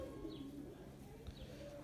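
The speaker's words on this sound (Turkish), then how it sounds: "Süper bir dışkı sağlıklı bir kuş bakın zangır zangır ötüyor" A healthy pet pigeon, a black checkered musk breed, coos softly in a few low, faint calls against a quiet indoor background.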